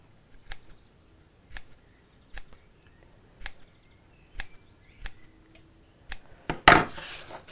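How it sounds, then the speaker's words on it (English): Scissors snip into the curved corner of fabric while sewing a drawstring bag, eight or nine sharp, separate cuts spaced about a second apart, close and crisp against a quiet room, the last cut louder and longer. "I'm just going to make those few snips into here."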